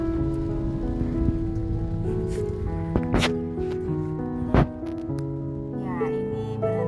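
Rain patters steadily during a drive along a quiet road to Panton Labu in North Aceh, a continuous hiss under a droning engine tone, broken by two sharp clicks.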